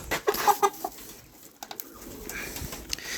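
A Master Grey rooster clucks and murmurs in short, soft calls while being weighed on a scale, with faint handling noise after, fairly close but low in level.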